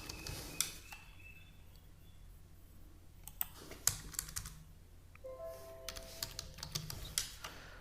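Quiet typing on a computer keyboard at an office desk, scattered keystrokes and clicks in uneven bursts, close but faint against a low background hum.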